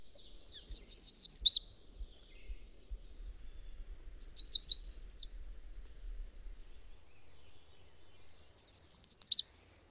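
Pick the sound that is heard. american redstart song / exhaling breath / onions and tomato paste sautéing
american redstart song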